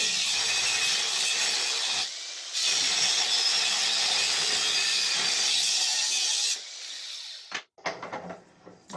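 A broken band saw blade being cut, likely with a power tool, a loud continuous grinding whine that pauses briefly, runs on for several seconds, then stops amid a few clunks.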